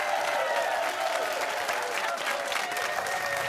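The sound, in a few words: studio audience applause at end of quiz show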